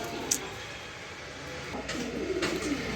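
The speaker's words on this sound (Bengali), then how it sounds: "এখানে এক পিস নীলি কবুতর আছে, নর কবুতর" A blue male pigeon gives a faint, low coo late in the clip, partly masked by steady background hiss and ambient noise, with a sharp click near the beginning.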